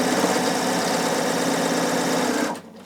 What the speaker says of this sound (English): So now watch how quick it is to overlock this.